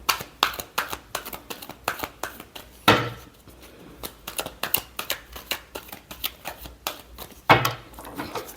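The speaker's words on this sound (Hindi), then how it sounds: "Last shuffle." A deck of playing cards is shuffled by hand, a fast run of crisp riffling flutters and taps with two louder snaps of the deck, close and alone without speech.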